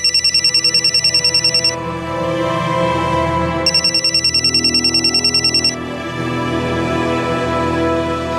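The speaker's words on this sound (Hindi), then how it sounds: "2014 अप्रैल, नैना की मां विद्या को वाराणसी रेलवे स्टेशन से एक फोन आता है।" A telephone rings in two long bursts of rapid electronic trills, separated by a pause, with low background ambience continuing between and after, in a crime drama.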